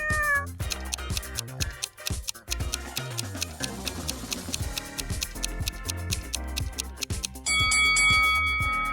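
A cat meows loudly and repeatedly, with yowling calls mixed among bell-like chimes and background music.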